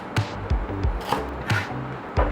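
A knife chops a peeled half shallot on a cutting board for a claypot tofu dish, about seven crisp, evenly spaced strokes, close and clear with no talking.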